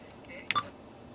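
A Sony MEX-N6001BD car head unit gives a short electronic beep as it switches from FM radio over to CD, a single brief tone set against a quiet cabin background.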